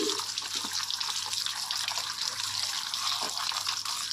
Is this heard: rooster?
no